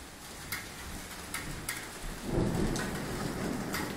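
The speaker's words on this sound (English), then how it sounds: "Do you hear the thunder?" Steady rain patters on a surface while a low rumble of thunder rolls in partway through, with a few sharper crackles.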